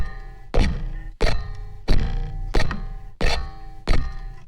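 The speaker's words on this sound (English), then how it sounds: "I really want to hear that bow hitting the wooden peg." A bow strikes a wooden peg in a processed horror-music sound, six heavy resonant thunks spaced about a second apart, each with a hard, saturated attack and a short ringing decay.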